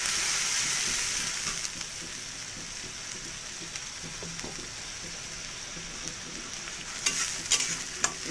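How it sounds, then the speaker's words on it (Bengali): Ground spice paste fries in hot oil for aloo dum, a loud hissing sizzle at first that settles into steady crackling, with a few stirring scrapes near the end. "এই মশলাটা আমি ওই তেলের মধ্যে দিয়ে দেব"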